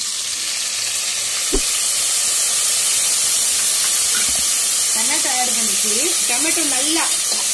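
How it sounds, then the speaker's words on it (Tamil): Tomatoes hit a hot pan for tomato rice, releasing a loud, steady hiss and sizzle with a light knock early on, while a voice speaks faintly over the frying toward the end. "இப்போ இந்த ஸ்டேஜ்ல நம்ம டொமேட்டோ ஆட் பண்ணிடுவோம்"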